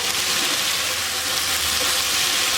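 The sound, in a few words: vegetables frying in oil over high heat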